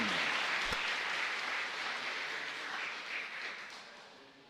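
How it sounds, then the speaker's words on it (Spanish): A congregation applauds during a live Catholic Mass at a parish church in San Lorenzo, a dense, even round of clapping that slowly fades over several seconds. "Un fuerte aplauso ahí para Lucas."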